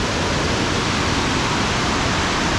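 First Falls at Burgess Falls, Tennessee, pours in a loud, steady roar of rushing water, a dense unbroken wash with no pauses and no voices.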